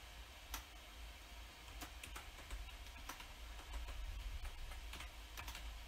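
Keys on a computer keyboard are tapped in scattered clicks, faint beneath a quiet room hum.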